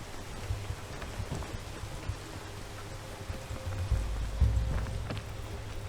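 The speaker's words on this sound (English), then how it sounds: "It's raining." Steady rain patters in the climbing video game Peak, a continuous hiss of falling drops with a low rumble underneath that swells briefly near the end, no voices.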